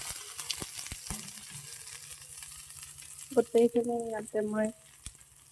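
Onion, green chilli and vegetables fry in hot oil in a pan for a home-made pasta dish, giving a soft, steady sizzle with a few stirring clicks, while a voice speaks briefly near the end.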